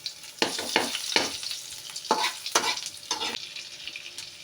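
Ginger drops into hot oil and fries for sarsado tilapia, a close crackling sizzle with several rhythmic bursts of stirring scrapes against the pan.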